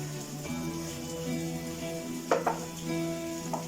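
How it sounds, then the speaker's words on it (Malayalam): Finely chopped onions, two of them, sauté in a pan for creamy garlic chicken, a low sizzle under a faint steady hum, with a few brief clinks and scrapes of stirring partway through. "ഇതിലേക്ക് നമുക്ക് 2 സവാളയാണ് ചെറുതായി അരിഞ്ഞു വെച്ചിരിക്കുന്നത്, അത് ഇട്ട് കൊടുക്കാം."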